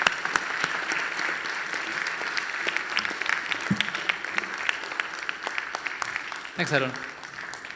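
Audience at an annual conference claps steadily to welcome a police officer onto the stage, with sharp nearby claps standing out, and someone briefly speaks near the end as the clapping continues.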